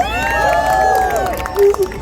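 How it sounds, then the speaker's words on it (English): Outdoor crowd at an Indian Independence Day flag hoisting in Times Square, New York, cheering and applauding, with voices and a sustained tone over the crowd and a few louder shouts near the end. "Let's give the Federation a round of applause."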